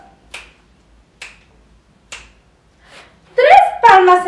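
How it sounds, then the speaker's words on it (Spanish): Three crisp finger snaps tick out evenly in an otherwise quiet preschool arts movement exercise, followed by a brief burst of voice. "tres chasquidos"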